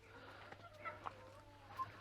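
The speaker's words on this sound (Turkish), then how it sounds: "Hem de dedim tavukları çıkarayım dışarıya." Backyard chickens cluck softly in scattered bursts just after being let outside, with faint farmyard background and a steady low hum.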